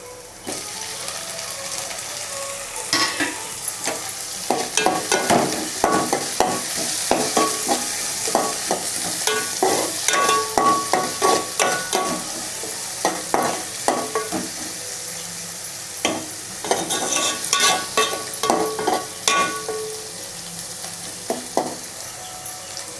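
Tomatoes sauté in oil for an egg curry while a spatula stirs them, making repeated scraping and clattering strokes against the pan over a soft sizzle, close and steady throughout.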